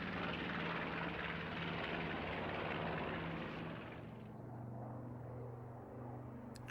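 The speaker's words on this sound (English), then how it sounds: "And then the B-25 Mitchell gets airborne." A B-25 Mitchell bomber taking off at a Flying Legends airshow at Duxford: a loud, steady piston-engine roar that dips slightly as the aircraft climbs away, with no voices.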